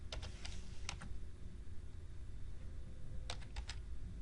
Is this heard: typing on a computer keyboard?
yes